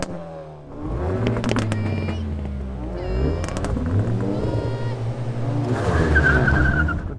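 A Peugeot driving on an airfield track, its engine revving up and down through gear changes with sharp tire squeal, loud and near throughout.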